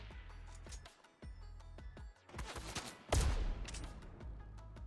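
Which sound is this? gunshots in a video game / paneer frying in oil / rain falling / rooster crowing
gunshots in a video game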